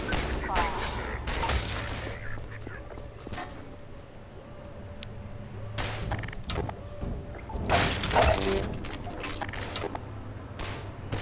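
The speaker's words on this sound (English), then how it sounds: "Why are they shooting?" Scattered gunfire in Half-Life 2, several sharp shots at irregular intervals over a busy game soundscape, with a few short voice bursts in between.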